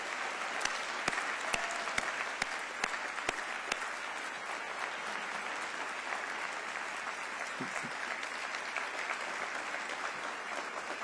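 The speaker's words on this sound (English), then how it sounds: "Give our city workers a rousing round of applause" A civic address audience gives city workers a rousing ovation, with a dense, sustained roar of clapping and a few sharp nearby claps punctuating it early on, and no voices over it.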